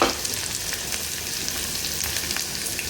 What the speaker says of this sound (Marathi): मस्त तेल आलेलं आहे आता टाकूया कांदा कांदा टाकला आहे